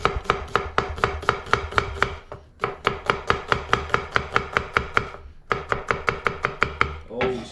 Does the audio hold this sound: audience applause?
no